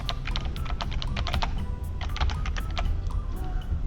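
Fingers type on a computer keyboard at close range in a fast, uneven run of crisp key clicks with a few brief pauses, over a low steady room hum.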